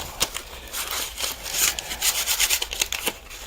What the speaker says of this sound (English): gotta love hand sanding.